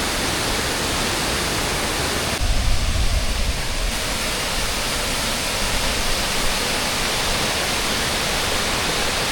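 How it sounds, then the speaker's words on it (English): A waterfall right beside a mountain trail in West Virginia gives a loud, steady broadband rush that stays constant throughout, with a brief deeper rumble early on and no talking. "Another awesome waterfall right along the trail."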